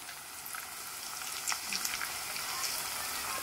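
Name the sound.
egg and brinjal pieces frying in a pan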